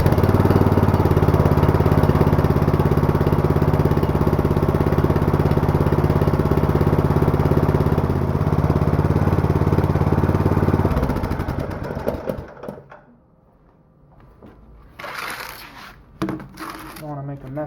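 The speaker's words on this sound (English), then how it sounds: "now that it's running, I'm gonna run it just a little bit more to get the oil warmed up" A DR brush mower engine idles steadily and loudly for about eleven seconds while warming its oil, then cuts out, leaving quiet clicks and a few faint handling noises.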